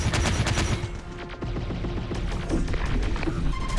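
Grenade launches and blasts from shock infantry in the video game Terminator Dark Fate: Defiance, a dense, continuous battle din of rapid gunfire and thuds throughout.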